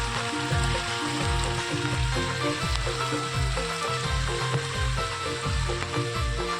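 Rain falls steadily over a village with flowing water rushing alongside, a dense, continuous wash of noise that stays loud and even from start to finish, with no voices.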